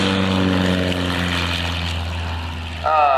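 An aerobatic propeller airplane at an air show drones overhead with a steady throbbing hum that shifts pitch as it rolls and turns through a half Cuban maneuver, while an announcer talks over it.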